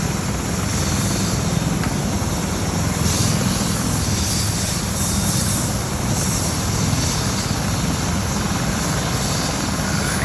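A helicopter landing and taking off in a park, its steady rotor thump and engine roar loud and continuous throughout, with no voices.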